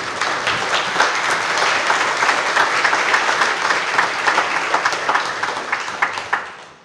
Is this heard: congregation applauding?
yes